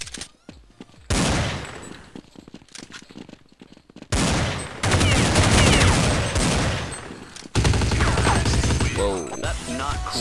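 Gunfire in a multiplayer shooter game, featuring a Desert Eagle pistol: dense loud bursts of shots in several rapid volleys, one dropping to quieter gameplay noise before the shooting resumes.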